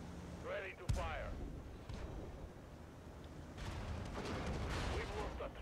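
A T-55 tank cannon fires in a video game, one loud sharp boom near the start that decays into rumbling battle noise, with voices talking over it.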